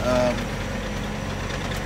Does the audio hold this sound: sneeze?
no